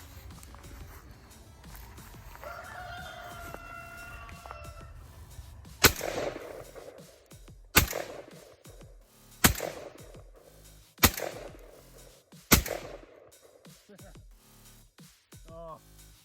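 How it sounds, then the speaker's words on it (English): An ATI Bulldog 12 gauge semi-auto bullpup shotgun with an 18.5-inch barrel fired outdoors, five loud, sharp, evenly spaced shots about two seconds apart, each followed by a short echo, after a stretch of quiet background sound. "This thing is a blast to shoot, and it is functioning fantastic."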